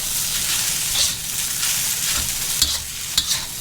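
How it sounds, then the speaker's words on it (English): Shrimp fried rice being stirred in a hot pan with oyster sauce, a close, steady sizzle broken by scraping strokes and a few sharp clacks of the utensil toward the end. "And so you just keep stirring."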